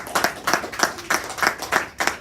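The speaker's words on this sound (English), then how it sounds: "So let's all give a round of applause." Rhythmic clapping at a children's public speaking school event, about seven to eight even claps in roughly two seconds, close and moderately loud, sounding like one or a few people rather than a full crowd.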